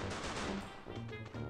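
A short, quiet burst of gunfire from the shooter game Free Fire sits amid game music and effects.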